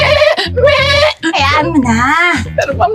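Harsh, wavering bleats alternate with a voice that imitates a goat's cry in a domestic setting. The sounds are loud and close, in quick bursts over a few seconds.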